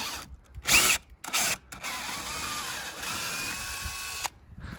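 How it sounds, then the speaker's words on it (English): A power drill bores into a Mk7 Golf front bumper, several short loud bursts giving way to a longer steady whine that cuts off abruptly, with quiet gaps between. "I'm currently drilling my bumper for the first time."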